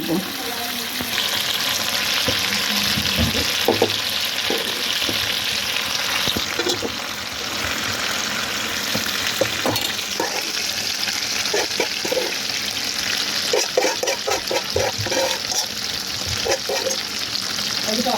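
Taro leaves frying with hilsa fish in hot oil give a steady, loud sizzle throughout, with scraping stir strokes and occasional clinks of a utensil against the pan.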